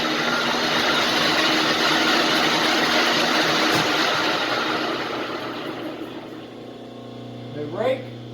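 A Rockwell lathe runs at speed with a steady mechanical whir and hum that gradually fades as it winds down, followed by a brief faint clunk near the end.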